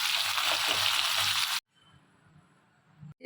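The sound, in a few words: onions frying in hot oil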